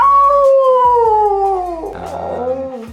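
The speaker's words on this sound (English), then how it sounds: "the dogs started howling at each other" Dogs kept in outdoor enclosures in winter near Banff howl to one another, a long, clear, slowly falling howl up close joined by a rougher second howl overlapping near the end, with no talking.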